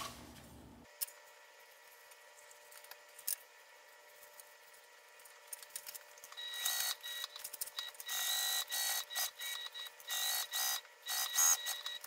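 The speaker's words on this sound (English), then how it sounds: "you'll see me start stitching here, go all the way around, come back down to here, back stitching when I start and stop" A sewing machine stitches around layers of fabric, back-stitching at the start and stop. The clip is quiet at first, then turns into loud, rapid whirring bursts that come and go in a choppy rhythm.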